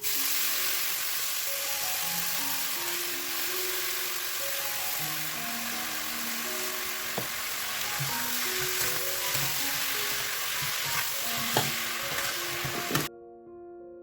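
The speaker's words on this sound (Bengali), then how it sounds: "আগে মূলোটাকে দিয়ে ভেজে নিচ্ছি" Radish pieces sizzle steadily as they fry in a pan with turmeric, the spitting crackle continuous throughout with occasional louder pops and stirring clatter, then cutting off abruptly near the end.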